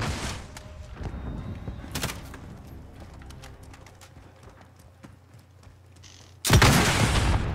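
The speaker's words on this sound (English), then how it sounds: "RPG inbound." An RPG rocket explodes in Call of Duty Modern Warfare on Xbox One: a sudden loud, broad blast near the end, after scattered thuds and game noise.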